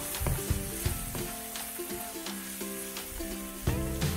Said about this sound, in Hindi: सॉस को डालकर आप इसको मज़ीद दो से तीन मिनट तक पका लें।